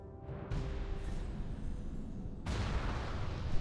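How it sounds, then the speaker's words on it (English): A World of Warcraft explosion goes off as a broad, loud rumbling blast that swells at the start and surges again later, sustained and noisy with no talk over it. "it's gonna explode"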